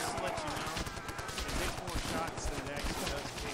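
Rapid bursts of gunfire from the World War II shooter game World at War crackle densely and continuously, loud and busy, with a player's voice talking over the shooting.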